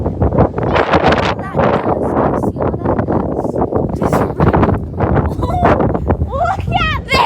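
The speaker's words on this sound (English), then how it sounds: "it is so windy" Strong storm wind in Utah roars and buffets the microphone nonstop, loud and close, with voices breaking through the gusts now and then.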